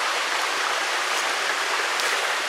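Water from the Namera waterfall on a mountain stream on Tengu-yama near Masuda, Shimane, rushes in a dense, constant hiss. It is close and loud, with no voices.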